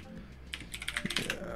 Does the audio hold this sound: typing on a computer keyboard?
yes